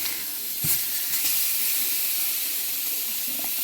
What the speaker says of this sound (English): I want to make sure that I sear both sides